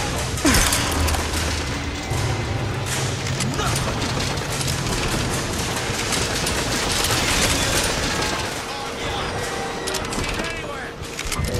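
Dense gunfire rattles on in the video game Bioshock Infinite, played on hard difficulty, with crashes and booms mixed in and people shouting over the steady combat din.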